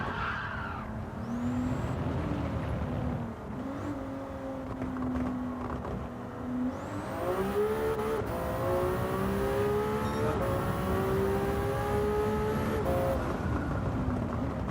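Racing car engines rev and whine through shifting gears, rising and falling in pitch with tire squeals, loud and continuous with no talking.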